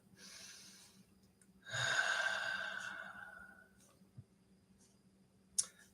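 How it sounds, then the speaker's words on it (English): One deep sighing breath, close and soft, swelling then fading over a couple of seconds, followed by a faint click and a small snort. "Take a deep breath."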